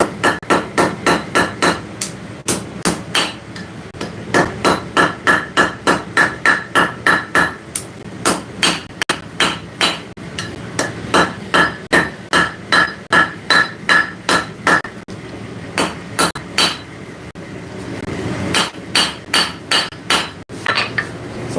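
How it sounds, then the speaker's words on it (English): Hot metal being hammer-forged over the edge of an anvil in a workshop: a long, steady run of sharp ringing blows in quick even rhythm, with brief pauses between groups, loud and close. "we're just hanging off the edge and forging that down in"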